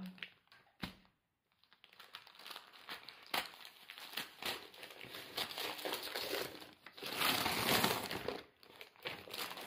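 Crinkling and crumpling of gift wrapping paper being pulled open around a heavy wrapped pad of 200-gram paper, with irregular rustling bursts that grow louder and denser near the end.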